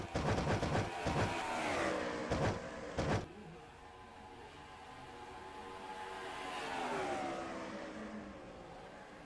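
Race trucks at Dover Downs International Speedway running three wide, several engines whining and rising in pitch as they pass, with a sharp burst early on and a steady distant drone afterward.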